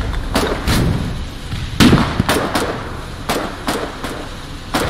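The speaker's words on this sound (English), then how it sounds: "somebody shot a flare" A flare is fired during a battle in the war video game Foxhole, amid a rapid series of loud, close pops and bangs that burst repeatedly over a rumbling background.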